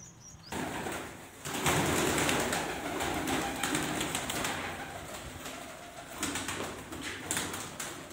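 Pigeons coo and rustle outdoors at moderate distance, with steady ambient noise and occasional wing flutters, no talking.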